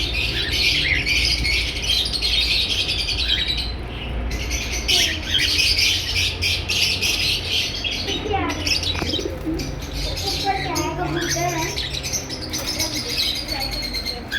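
A breeder pair of red-eye albino personata lovebirds squawks and chirps nearby in shrill, repeated calls. The calls run steadily throughout, and a voice is heard briefly partway through.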